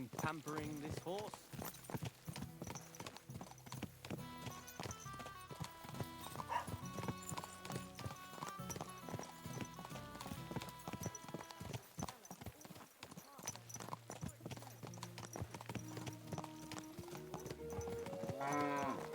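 Rhythmic horse hooves clip-clopping at a walk beneath orchestral music, with occasional snorts and voices talking, in the video game Kingdom Come: Deliverance II.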